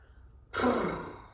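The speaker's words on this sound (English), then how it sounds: "include a couple of horse breaths, fluttering out the lips" A single breathy exhale with a soft buzzing flutter, like lips vibrating loosely, rising suddenly and fading over about a second.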